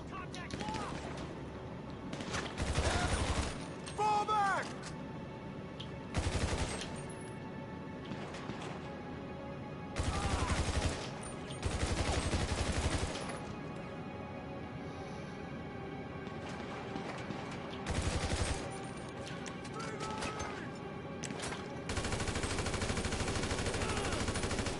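Bursts of automatic gunfire in GTA Online during the single-player mission A Titan of a Job, several loud volleys separated by pauses, with a sustained burst near the end and game voices shouting over the action.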